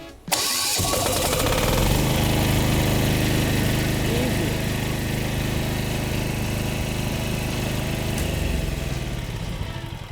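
A Dnipro-M DX-65 diesel generator starts up indoors and settles into a loud, steady running drone that continues without a break to the end of the clip, with no talk over it.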